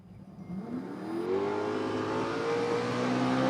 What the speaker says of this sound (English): Let's see what this thing does. Couple big revs.